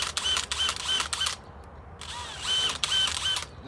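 A drill countersinking screw holes for hanging a floating shelf: two close bursts of whirring drill motor, each about a second and a half long, separated by a short quiet gap.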